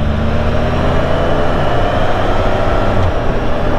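A 2009 Hayabusa motorcycle rides alongside on the road, its engine drone holding steady pitches over continuous wind and road noise from riding, close and unbroken throughout.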